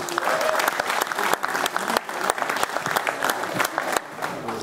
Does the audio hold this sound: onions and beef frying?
no